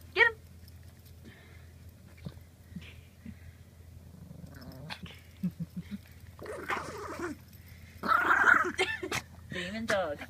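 A dog growls and barks in a home nursery setting, with rough growling bursts and a louder snarl near the end, mixed among children's and adults' chatter.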